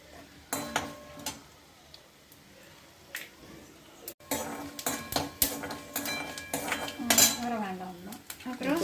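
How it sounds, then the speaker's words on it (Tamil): A spoon scrapes and clinks against a pan while groundnuts are stirred in oil with mustard seeds, irregular close metallic knocks and rattles over a faint sizzle. "நல்லா பரட்டிக்கோங்க."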